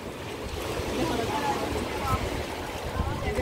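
Large sea waves crash and roar continuously onto a beach in El Salvador, a loud, dense surf wash with wind buffeting the microphone throughout.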